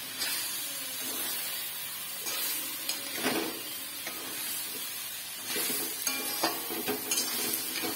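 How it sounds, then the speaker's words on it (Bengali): Broccoli being stirred with spice paste in a hot pan: a steady frying sizzle and hiss under repeated scraping strokes of a spoon against the pan, close and even throughout, with no talk. "ভালো করে নেড়ে চেড়ে মশলাটাকে মিক্স করতে হবে ব্রোকোলির সাথে"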